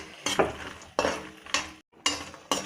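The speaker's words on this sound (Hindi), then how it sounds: "अब हम इसी में ये अपना मखाना डाल लेंगे, इसको भी भून के निकाल लेंगे इसी तरह से" Fox nuts (makhana) roast in a pan while being stirred, four or five close scraping, rustling sweeps of a spoon pushing the light puffed nuts around, separated by brief gaps.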